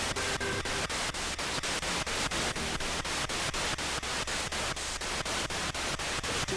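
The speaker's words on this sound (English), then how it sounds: "you can speak your words through the white noise that is coming through that device" Harsh, loud white-noise static pours continuously from a ghost-hunting device inside a reputedly haunted prison, chopped by a steady rapid pulsing sweep throughout.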